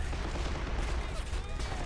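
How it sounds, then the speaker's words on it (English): Artillery and gunfire in the war video game Men of War rumble in a dense, continuous burst of low booms and cracks, fairly faint and brief, with no clear talk. "The artillery has started firing!"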